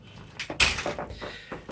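Front door of a multi-room hotel suite opening, a short knock-like thud and rattle followed by a brief brighter scrape and soft footsteps.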